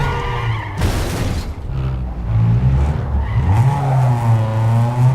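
A car in Need for Speed Underground 2 braking hard in a straight line, tires squealing loudly over a droning engine, with a sharp screech burst early and the skid sustained to the end.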